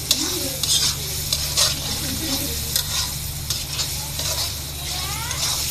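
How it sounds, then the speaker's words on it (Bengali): Noodles sizzle in a hot pan with Maggi masala while being stirred, loud close frying hiss broken by repeated scraping and tossing strokes. "আমি এই মশলাটা দিয়ে একটু কষায় নিব।"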